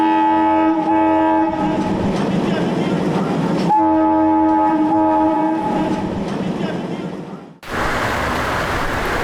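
A passenger train rolls past in rain with steady rumbling and rhythmic wheel clatter, while a sustained horn blares loudly over it, ending in an abrupt cut to a different wash of noise.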